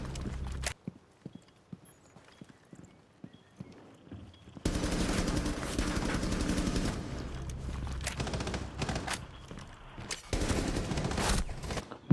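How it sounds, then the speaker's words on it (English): Gunfire in a first-person shooter, a player's character hit by a shot fired through a wall; a quiet stretch of faint footsteps and clicks gives way to loud, dense bursts of rapid shots that run on with brief gaps. "I just got shot through a wall."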